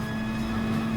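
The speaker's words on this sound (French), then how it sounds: "là c'est un avion ça là" Airplane passing overhead in the Gran Turismo Sport racing game, a steady droning engine hum with a strong constant low tone, moderately loud and unbroken for the whole second, no voices.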